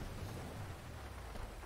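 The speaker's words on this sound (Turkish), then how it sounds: "Bu yağmurun adı ahmak ıslatandır." Steady rain falls in GTA 5 RolePlay, a soft, even hiss of drops with a low rumble underneath, continuous and fairly quiet throughout.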